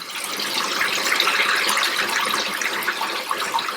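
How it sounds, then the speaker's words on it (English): Shower water pours steadily into a bucket, a constant splashing gush at close range. "it's going to collect a lot of your shower water"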